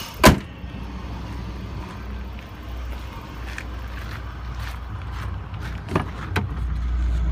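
The rear passenger power window of a 2004 GMC Yukon with a 5.3 engine runs as a steady low motor whir, with a thump at the start and heavier knocks near the end, and no voices.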